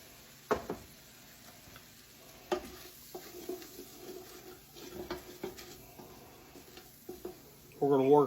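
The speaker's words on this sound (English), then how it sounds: "we're going to saute them until they turn translucent" Onions sauteing in butter in a pan, with a soft ongoing sizzle broken by utensil stirring and scraping sounds, plus a few sharper clicks and knocks near the end.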